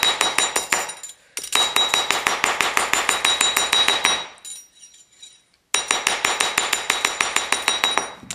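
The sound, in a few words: hammering thick wire straight with a rawhide hammer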